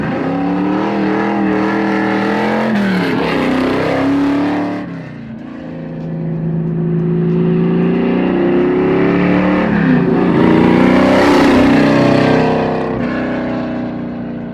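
A 502 big block Chevelle SS restomod with 4.10 gears pulls hard in first gear, its loud, deep engine roar rising steadily, easing briefly, then climbing again close by without talk.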